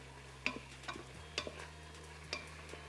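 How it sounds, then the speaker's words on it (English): Garlic toasts in an Instant Pot on saute mode for a Cajun jambalaya, making a quiet, low sizzle. A few light clicks and taps break in now and then, and no voice is heard. "So we're just gonna let that toast just for 30 to 60 seconds."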